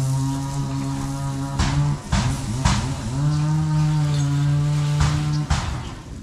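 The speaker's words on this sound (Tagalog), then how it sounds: "Sino yung nag-chainsaw?" A chainsaw runs loud and close with a steady buzzing engine drone, briefly dipping and revving a few times before settling back to a constant pitch.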